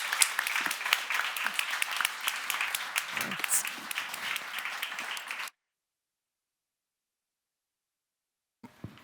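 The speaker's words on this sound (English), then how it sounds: "I would love to have a round of applause for eBay and Fashion Council for having us here today" Audience applause at a fashion industry panel talk on circularity, hosted by eBay and a Fashion Council, a lively burst of many hands clapping with a few voices underneath, cutting off abruptly into silence before a faint sound returns.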